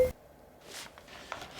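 A brief electronic beep from Sony WH-1000XM4 headphones switching into ambient sound mode opens the clip, followed by faint rustling and quiet background noise.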